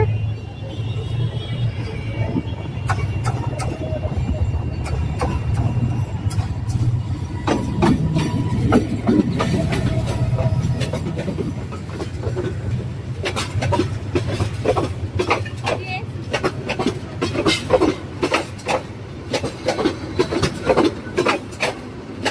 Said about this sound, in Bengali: গরু দেখতে দেখতে আর একটা ট্রেন চলে আসছে।